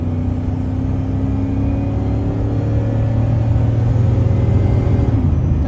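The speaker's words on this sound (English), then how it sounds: "So first gear, that's first gear. That's second. It shifts a lot harder." A GMT800 pickup truck accelerates steadily, its engine rumbling loud and close with a continuous low drone as it pulls through the gears, no talking over it.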